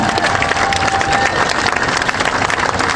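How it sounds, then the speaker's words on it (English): A crowd honoring the town of Pittsboro at a Jeff Gordon Day event breaks into loud, sustained applause, dense clapping mixed with scattered cheers and whistles, close and continuous throughout. "One more round of applause for the town of Pittsboro"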